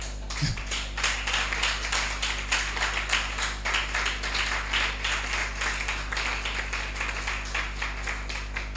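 A church congregation claps steadily in rhythm over a constant low hum, the clapping dense and continuous for the whole stretch, with no clear speech.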